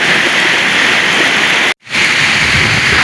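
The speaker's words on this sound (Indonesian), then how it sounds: "ditunggu-tunggu hujannya bukan malah berhenti guys, malah makin kencang" Heavy rain pours down steadily near an excavator during a tropical downpour, a loud dense hiss with no voices and one brief silent dropout partway through.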